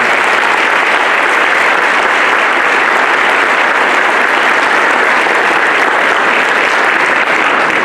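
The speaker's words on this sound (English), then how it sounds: "we're going to do a round of applause for everyone who's" Loud, steady applause fills a hall at a college state-of-the-college address, many hands clapping continuously at an even level with no talk over it.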